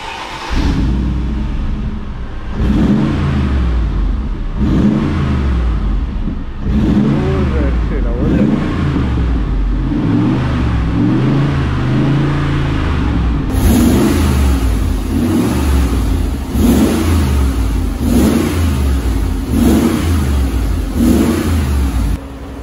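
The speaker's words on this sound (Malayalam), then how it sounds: "ഈ വണ്ടിയിൽ എനിക്ക് ഏറ്റവും ഇഷ്ടപ്പെട്ട സംഭവം, അതായത് ഇതിൻ്റെ എക്സോസ്റ്റ് നോട്ട്." A Mercedes-Benz G55 idles and revs repeatedly in a series of loud, deep exhaust bursts with a rumbling engine note, close to the microphone, with a voice talking at times over it.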